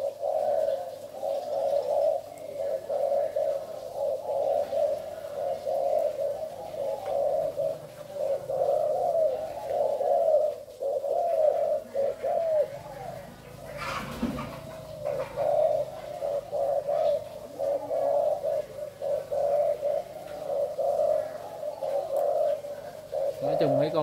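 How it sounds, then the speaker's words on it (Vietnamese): Spotted doves coo in steady repeated phrases, fairly close and persistent throughout, with several birds calling over one another and a person speaking at times in the background. "Chim gáy nhiều quá loãng tiếng."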